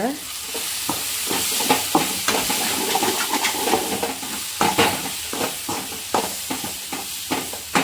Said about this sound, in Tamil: மசாலா வேகட்டும் நம்ம போட்டிருக்க மசாலா வேகிற வரைக்கும் கொஞ்சம் இதை கிண்டி விட்டுக்கலாம்